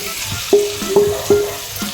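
Fish roe tossed into a hot pan with a little vinegar, sizzling steadily while sharp scrapes and clinks of stirring land in a loose rhythm, close and fairly loud.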